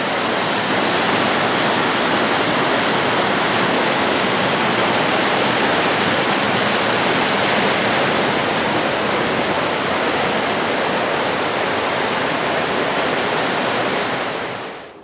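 Steady, full rush of a flowing river, loud and close, continuing unbroken throughout with no voices, in a southern Finland forest in winter.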